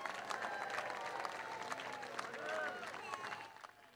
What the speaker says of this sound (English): let's give a big round of applause honoring John McLaren